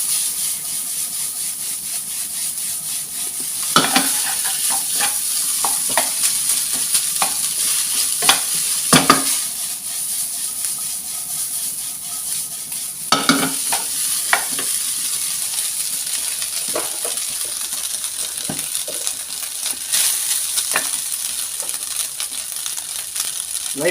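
Fish fried rice, nasi goreng ikan, stir-fried in a pan: a steady loud sizzle runs throughout, broken by sharp scraping clacks of a spatula against the pan every few seconds.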